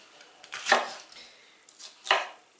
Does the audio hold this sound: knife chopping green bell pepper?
yes